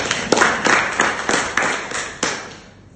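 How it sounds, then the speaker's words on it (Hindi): An audience applauds at a talk, with a burst of sharp, uneven claps from a moderately sized crowd, loud and close at first, then thinning and fading out toward the end. "रजवाड़ सर के लिए एक बार जोरदार तालियां हो जाए।"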